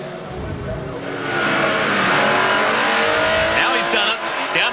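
Racing engines roar and whine as sports and GT cars brake hard into a chicane at the 1994 Wellington street race, loud and close, with a commentator talking over them.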